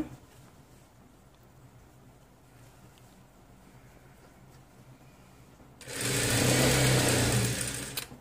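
Near the end, a sewing machine stitches the waistband of a kids' pair of pants in one loud, steady run of about two seconds, following a long quiet stretch of faint handling noise.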